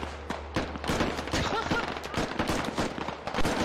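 Friendly gunfire in the Squad combat game, a dense run of sharp shots and automatic bursts cracking close and steady over roughly four seconds, with voices partly audible beneath.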